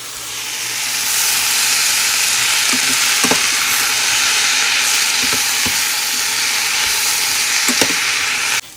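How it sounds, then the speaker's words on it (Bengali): Potatoes frying with raw tomatoes in a pan make a steady, loud hissing sizzle, with occasional light taps and scrapes of a spatula over the frying. "আর এখানে রান্না করছি কাঁচা টমেটো দিয়ে আলু ভাজা"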